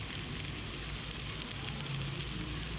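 Cashews and prawns frying in a pan over a gas flame, a soft continuous sizzle with faint crackles, fairly quiet and steady.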